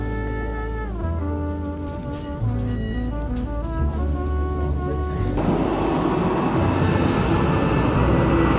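Airplane engine noise at London Stansted airport: a steady, loud mechanical drone with shifting tones, building into a broad roar of rushing noise in the later seconds.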